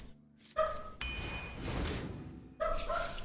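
A dog bark sound effect in a Hearthstone arena match, a short close bark set among chiming tones and a whooshing game effect, with no talking.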